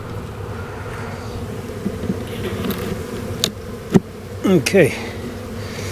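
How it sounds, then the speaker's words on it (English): Honeybees hum in a steady drone around an opened beehive in a honey yard during inspection, with a few sharp knocks and scrapes of equipment and a brief spoken word. "I'm gonna knock the rest of the bees out of here."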